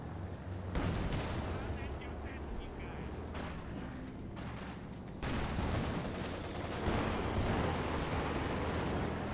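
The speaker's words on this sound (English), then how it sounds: "that's the sound of the Katusha" In a Company of Heroes 2 match, Katyusha rocket artillery fires in a dense barrage, a rushing, crackling roar of launches and distant impacts that swells partway through, with a voice talking over it.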